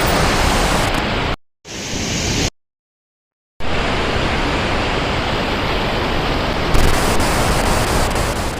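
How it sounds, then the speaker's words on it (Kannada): Kanoor (Devkar) waterfall in the Western Ghats near Yellapur, Karnataka, roars as a loud, dense and unbroken wash of water. The sound cuts out twice briefly, once for about a second, then resumes at full strength. "ಈ ಕಾನೂರು ಜಲಪಾತ, ದೇವಕಾರ್ ಜಲಪಾತ"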